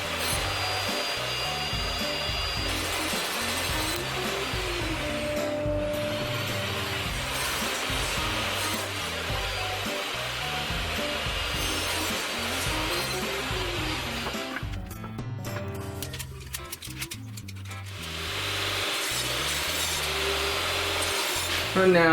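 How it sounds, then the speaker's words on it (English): A power tool cuts a dado into wooden beams for a sliding table base, a loud continuous whining roar that holds for most of the stretch, dips briefly, then resumes. "I am making a dado on the beams because it makes aligning the pieces easier."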